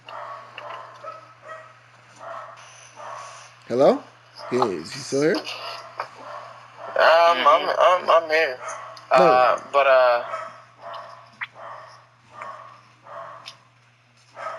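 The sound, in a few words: three dogs barking in background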